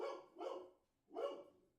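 Dogs bark indoors, three gruff barks: two close together, a pause, then one more, fairly near and alone.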